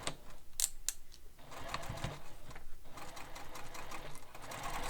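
A sewing machine stitching a strap into place on a sling pack, a quick mechanical rattling run that starts, pauses briefly and resumes, close and moderately quiet with no talking.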